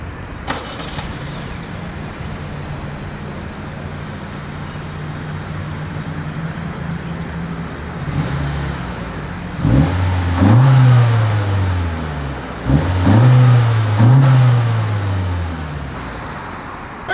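A 2023 Honda CR-V idles steadily, then its engine revs hard twice in strong surges, loud and close, with a throaty exhaust roar between quieter moments.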